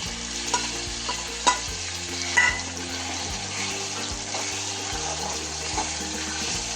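Coconut, coriander, garlic and ginger paste stirred into frying onion and tomato for a Maharashtrian brinjal and field bean dry curry, a steady close sizzle with a few soft spoon scrapes and knocks against the pan.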